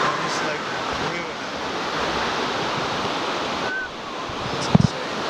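Floodwater from a flash flood in West Virginia rushes over a main road, a steady, broad roaring wash of water that runs continuously, with a few brief faint knocks near the end.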